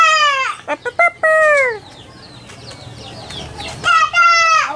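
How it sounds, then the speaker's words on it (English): Chickens at a house in Claveria, Misamis Oriental, Philippines, including a tethered rooster, give loud harmonic squawks and clucks. A burst comes at the start, a few short calls follow, and another squawk closes the clip, with faint background noise between. "That's a chicken."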